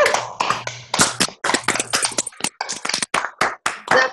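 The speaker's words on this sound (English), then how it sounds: "Let's give it a round of applause." A round of hand clapping from participants on a weekly group video call, several people clapping over each other in uneven bursts, close and fairly loud, with bits of talk mixed in.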